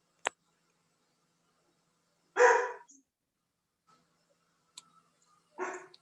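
Large dogs barking, a single sharp sound followed by two short bursts of several barks each, separated by long stretches of near silence, fairly clear and unaccompanied by talk.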